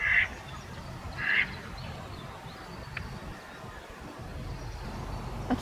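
Ducks on a sandless lakeside beach give a couple of short quacks early on, fairly distant over steady outdoor rumble and wind noise.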